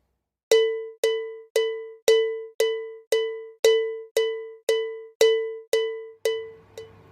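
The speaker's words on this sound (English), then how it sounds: "A click track is essentially a metronome." Metronome click track used for recording in a studio, a dozen sharp woody clicks at a steady even tempo, roughly two per second, each decaying fast, close and alone with no voices.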